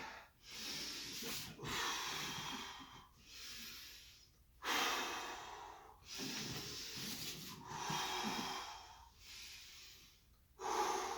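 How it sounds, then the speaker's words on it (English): Rapid, audible breathing during a core exercise aimed at protecting the obliques; close, forceful inhales and exhales alternate in a steady rhythm of about ten breaths, each a breathy hiss through the nose or mouth, with no talk. "I noticed I was breathing too fast."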